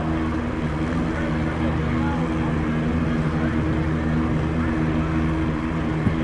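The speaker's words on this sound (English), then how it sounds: "the motorcycle warming up over here in the right side tower lane that you hear humming away over there" A drag racing motorcycle's engine warms up in a tower lane during Nitrous Express Pro Open qualifying at the Mancup World Finals, a steady droning hum with strong low harmonics running throughout, fairly loud and unbroken.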